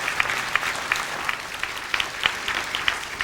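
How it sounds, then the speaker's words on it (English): A club audience at Tamworth & District Workmen's Club claps steadily for the backing band, a dense, even patter of hands with a few sharper claps standing out. "How about a big clap for them, eh?"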